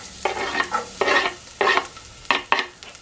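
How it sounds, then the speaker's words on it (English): Chopped garlic sizzling in oil in a hot stock pot, stirred, with bursts of frying noise coming and going in short irregular pulses, close and moderately loud. "and let that sizzle."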